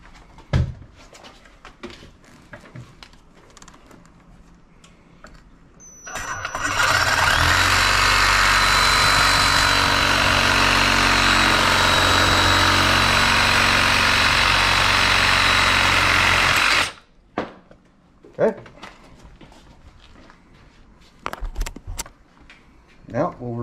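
A power saw cuts down through the shaft of a Humminbird Mega 360 trolling motor, a loud, steady, broadband grinding roar of about ten seconds, with light handling clatter and brief voices before and after.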